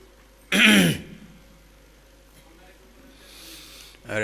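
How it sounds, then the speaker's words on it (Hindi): A single harsh cough or throat-clearing from havan fire smoke bursts out close by, then a quiet stretch with faint breathy noise and another rough throat sound at the end. "क्या डाला है हवन में जो खांसी खांसी हो रही है"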